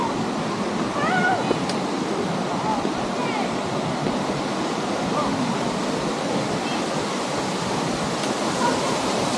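Maribina Falls in Catanduanes roars with a steady, dense wash of rushing water, loud and close, with a faint voice briefly audible beneath it.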